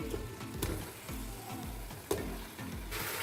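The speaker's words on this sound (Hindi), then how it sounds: "ये मैंने चांपे ऐड कर दिए, जिसमें मैं इनको मैं फ्राई करूँगी लहसुन में" Mutton chops sizzle and fry with garlic in a pan with a steady hiss, broken by a few stirring scrapes and clinks close by.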